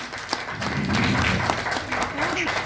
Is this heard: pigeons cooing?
no